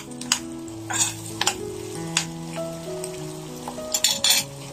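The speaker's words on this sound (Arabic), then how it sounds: "عبال ما البصله بتاعتي تتكرمل" Onion frying in a pan at home, a steady close sizzle under scattered brief clinks and stirring scrapes, with faint musical tones in the background and no talking.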